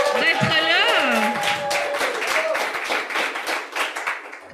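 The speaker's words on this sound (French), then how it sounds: "Fait qu'on peut applaudir Marie-Ève" During a French-language podcast a small group claps for guest Marie-Ève; a brief musical jingle and voices sit over the start, and scattered, lively clapping carries on underneath and continues to the end.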